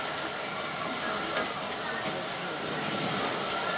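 The Polar Express train gives off a steady, loud, hissing roar like escaping steam, continuous for several seconds with slight swells.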